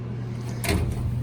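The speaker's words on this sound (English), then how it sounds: "But I like the drawers like that. So then I can just nice and easy slide it out." A storage drawer in a warehouse slides smoothly out, making a short, soft rumbling scrape midway through over a steady low background hum.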